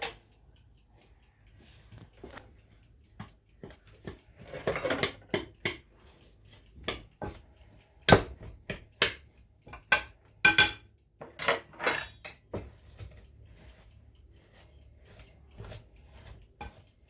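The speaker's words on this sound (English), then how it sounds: "I'm using my pastry cutter to do this" A pastry cutter works butter into flour in a bowl, giving repeated scraping chops and light metallic clicks in an irregular rhythm, close by, with a faint background hum.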